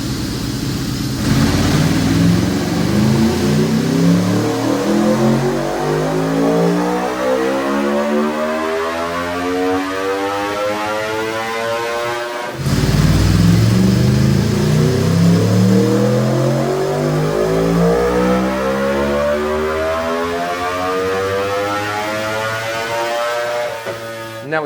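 An Aprilia RSV4 superbike with a BT Moto Stage 2 setup and velocity stacks roars on a dyno, climbing through two long, loud full-throttle pulls, each rising steadily in pitch before cutting off, with no talk over it.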